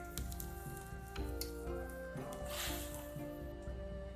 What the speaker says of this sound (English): Give it a stir using a tongs.